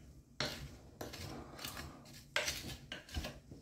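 Strawberry rhubarb crumble filling being mixed in a bowl: a few sharp scraping and clinking strokes of a utensil against the bowl, close and fairly quiet, with short pauses between.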